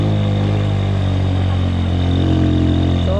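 A motorcycle engine labouring steadily uphill on a mountain road, a loud, close, continuous drone that holds without pause.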